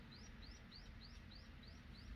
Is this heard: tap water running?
no